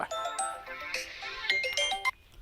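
A phone ringtone plays a quick electronic melody of bright chiming notes, clear and close, with no talking.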